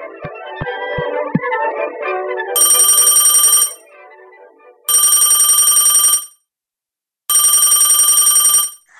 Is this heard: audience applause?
no